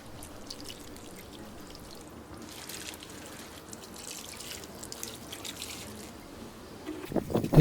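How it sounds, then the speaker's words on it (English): Water from a can trickles and pours steadily onto young viola seedlings about two inches tall, a soft continuous splashing with drips throughout, growing louder near the end. "give them a good watering"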